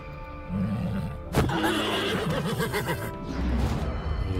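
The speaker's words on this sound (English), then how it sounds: "And I can use my horse to finish off this guy" A horse neighs loudly in the Wartales game, a long whinny with wavering pitch following a sharp crash-like hit, then a second, fainter neigh near the end.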